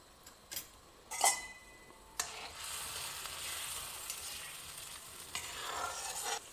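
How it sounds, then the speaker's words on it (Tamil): Water with sunflower oil and ghee heating toward a boil in a pan for kesari, a soft continuous bubbling hiss building after a few clinks and knocks of utensils, fairly faint and close. "தண்ணி கொதி வர ஆரம்பிச்சிருச்சு."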